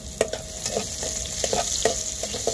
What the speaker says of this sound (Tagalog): so ginigisa na natin